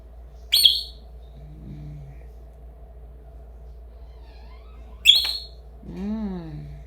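A pet lovebird gives two sharp, high chirps a few seconds apart, close and clear over a low steady hum, with a softer warbling call near the end.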